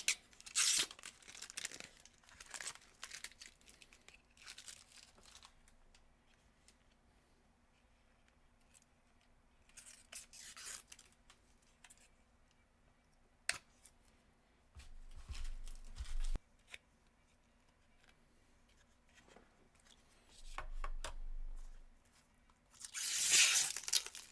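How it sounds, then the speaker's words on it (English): Cellophane plastic wrap being peeled off the controller arms of a new VR headset and controller charging stand, in close crackling, tearing bursts with quiet gaps between, ending in a louder crinkle. "once you have all the cellophane off, which again, not an easy task"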